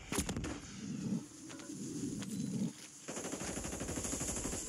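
Automatic rifle fire in Call of Duty: Warzone 3 rattles in long rapid bursts with short pauses between them, loud and close, with no voices.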